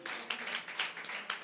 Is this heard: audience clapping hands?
yes